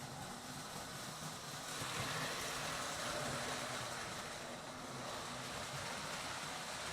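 A low, steady rumble of a heavy Hudson model locomotive running along track, continuous and fairly quiet, with a faint rhythmic clatter underneath.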